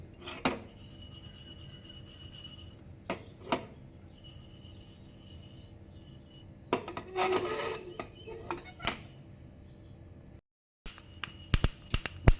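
Seeds dry-roasting in a hot pan give scattered sharp crackles and pops over quiet scraping and the clatter of a utensil, with a brief silent gap near the end.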